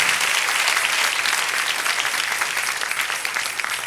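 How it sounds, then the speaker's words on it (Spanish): A congregation in a Spanish-language church service applauds, a sustained wash of many hands clapping that eases slightly toward the end. "Dale un aplauso al Señor."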